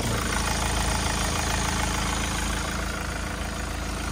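A 2019 Hyundai Palisade engine idles close by, a continuous low rumble with a faint mechanical tick, unchanging in loudness throughout.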